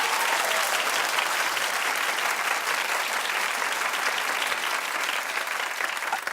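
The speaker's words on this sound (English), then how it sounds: "Clap if the show should just be canceled." A studio audience claps in sustained, dense applause that stays loud and even throughout, with a slight thinning near the end.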